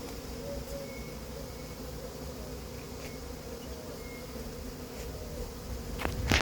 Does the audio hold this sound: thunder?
no